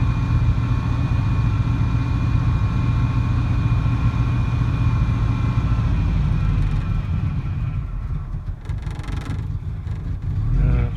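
A car engine idles roughly on a freezing day, barely running, with a dense uneven low drone held close and loud, a slight stumble and dip near the end before it steadies again.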